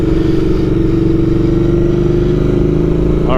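A Royal Enfield Interceptor 650 twin engine runs loud and close, a deep steady throbbing drone that holds constant with a slight lift in pitch at the very end.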